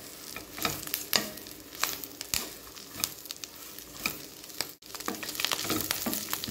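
Curry leaves and coriander sautéing over a medium flame in a pan, with a continuous sizzle broken by a series of spoon scrapes and stirring strokes, close up and with no voices.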